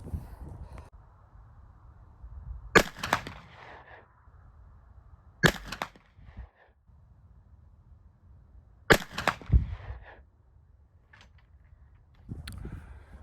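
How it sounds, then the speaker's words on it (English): Three loud rifle shots from an 1886 Browning 45-70 saddle ring carbine fired over a chronograph, each a sharp crack with a short echoing tail, spaced a few seconds apart, followed by a fainter knock. "We shot 3 shots over the chronograph."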